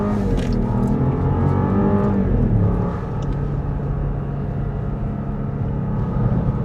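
A 2026 Jeep Grand Cherokee Summit with the Hurricane 2.0L engine accelerates at full throttle, a loud, steady engine drone heard from inside the cabin that drops slightly in pitch partway through.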